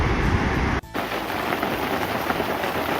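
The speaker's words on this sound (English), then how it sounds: "nothing like a nice hailstorm" Heavy hailstorm pelting a campsite in the Sierras, a dense steady roar of ice striking surfaces close by, continuous and loud with one brief dip before the downpour resumes.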